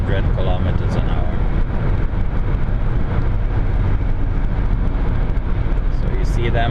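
Steady roar of cars speeding past on a highway at about 100 km/h, heard from inside a moving vehicle as a continuous loud rumble of road and wind noise with no clear gaps between passes.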